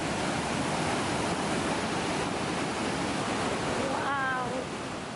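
The Agua Azul waterfalls in Chiapas, Mexico, cascade in a steady, dense roar of rushing water that fills the whole clip, with a brief bird chirp near the end.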